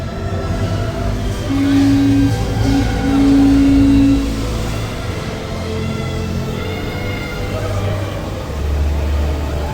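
A roller coaster runs through a themed indoor building at Europa Park, a sustained low rumble of cars rolling on track, with people talking nearby throughout.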